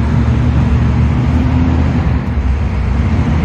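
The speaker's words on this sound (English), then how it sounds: "We have a car with open exhaust running down the other end of the building." An open-exhaust car runs inside an exhibition hall at the MCACN 2023 muscle car show, giving a loud, steady low rumble that fills the room without pause.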